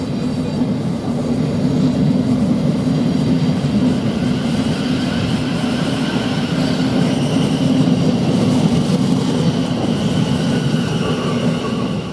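A Thameslink passenger train pulls into Three Bridges railway station, a loud continuous rumble of wheels and motors with faint squeal, steady throughout and close by, no talking.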